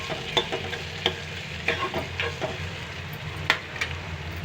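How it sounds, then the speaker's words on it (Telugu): Green chillies fry in oil for a fish curry, a close, continuous sizzle broken by repeated sharp spoon scrapes and taps against the pan at irregular intervals. "ఇప్పుడు పచ్చిమిర్చి వేసుకుందాం పచ్చిమిర్చి వేసాను"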